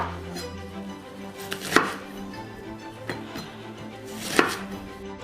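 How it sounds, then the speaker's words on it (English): A knife cuts through onions on a board in a home kitchen, with a few sharp, sparse chops standing out over quiet background hum and faint clatter. "Clean the onion first, and you can cut the onion in 4."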